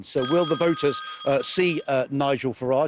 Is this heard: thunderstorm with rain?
no